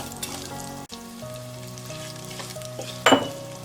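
Green chili and onions frying in a pan, a loud, steady close sizzle with stirring, a low humming tone beneath it and a sudden burst of crackle near the end.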